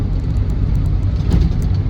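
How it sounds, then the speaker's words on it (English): A Land Rover Defender 90 TDCi XS station wagon slows under braking, a steady loud low rumble of road and drivetrain noise that swells briefly, with no talk over it. "See what it's like under braking."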